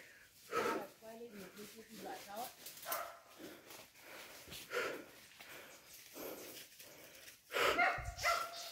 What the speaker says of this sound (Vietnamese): Đấy con kia sủa đây à?